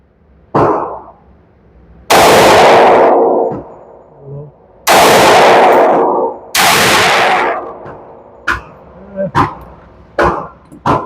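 A Sig Sauer P365 AXG Legion pistol fires three loud, sharp shots outdoors, each followed by a long echoing tail. Smaller clicks and handling knocks come between and after the shots.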